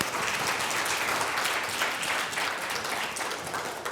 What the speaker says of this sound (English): I want a round of applause for him.